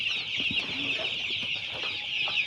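Eight-day-old chickens cluck and peep constantly at close range, a dense, busy chorus of small bird calls with no pauses.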